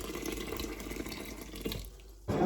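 Boiled water is poured over beans in a cooking pot, a steady splashing trickle that tapers off near the end, heard alone at close range.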